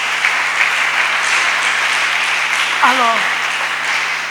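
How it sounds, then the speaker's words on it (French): A church congregation applauds and cheers loudly and steadily throughout, a dense wash of crowd noise with a brief voice rising above it near the end. "Est-ce que quelqu'un peut acclamer pour Jésus très fort"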